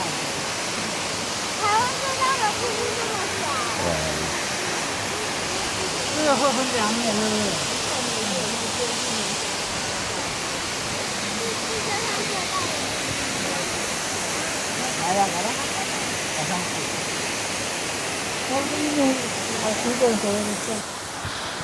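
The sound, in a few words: rushing water at Shifen waterfall, Taiwan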